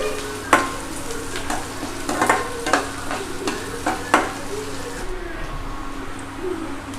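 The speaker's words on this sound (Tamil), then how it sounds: "வெங்காயம் வந்து நல்லா வதங்கணும்." Onions sautéing in hot oil in a kadai while cooking kadai sabji, heard as a steady close sizzle with a few sharp stirring clinks and scrapes before the sound settles lower.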